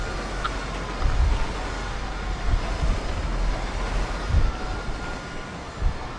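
A train passing in the video game GTA 5 gives a low, rolling rumble with periodic heavier thumps, moderately loud and continuous, with no voices over it.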